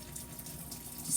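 Water squeezed out of zucchini trickles and drains into a sink in a home kitchen. It makes a soft, close, steady splashing that swells slightly at the end.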